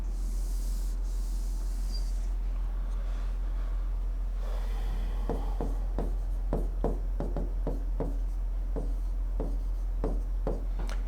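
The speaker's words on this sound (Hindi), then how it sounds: "थोड़ा इधर लिखता हूं मैं" Chalk or marker taps and scratches on a board during a Class 10 maths lecture on cubic polynomials, a quick series of short strokes following a quieter stretch, over a steady low hum.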